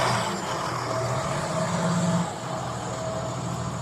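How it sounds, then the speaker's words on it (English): A truck passing on the road, a steady engine roar with a low rumble that holds across the whole stretch, loud and near, swelling slightly midway before easing off. "That is a beautiful truck."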